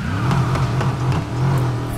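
A car engine in the racing video game Need for Speed Heat revs steadily and loudly, a low droning growl with rising and falling pitch held throughout.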